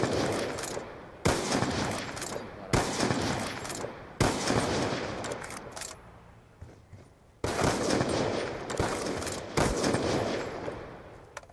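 Gunfire in Call of Duty Black Ops 2 comes as loud bursts of rapid automatic shots separated by short gaps, with sharp onsets and no talking.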